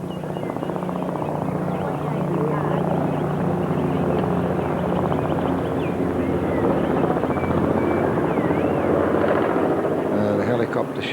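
Helicopter flying over a golf course at the Australian Masters, a steady loud rotor drone that holds throughout with no breaks.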